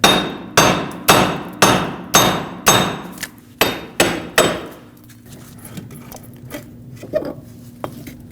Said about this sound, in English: take a hammer, tap it side to side, top and bottom, until this breaks free.